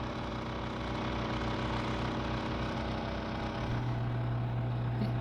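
A Fluval FX6 canister filter motor runs a 125-gallon oscar aquarium, giving a steady, unbroken low hum and whir that stays even throughout, close by, with no voices.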